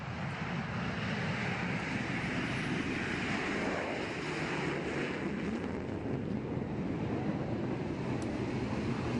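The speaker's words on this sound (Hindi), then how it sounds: "हेलीकॉप्टर सारंग हवा में अपने रोमांचित करतब दिखाता रहा" Indian Navy Sarang display team helicopter performing aerobatics, a continuous broad engine and rotor roar mixed with wind, steady and fairly loud throughout.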